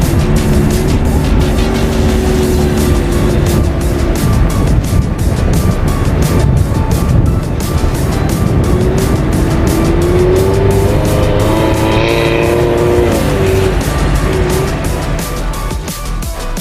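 An off-road vehicle crossing the desert dunes of Rig-e Jenn in Iran in second gear, engine droning loud and steady with rising and falling revs, close throughout.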